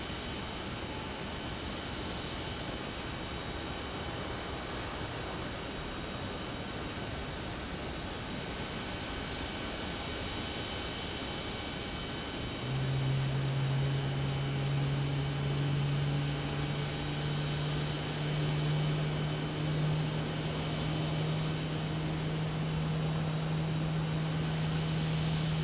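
A Southwest airliner arrives at Phoenix Sky Harbor as a steady, distant broadband roar, joined about halfway through by a sustained low engine drone that stays to the end.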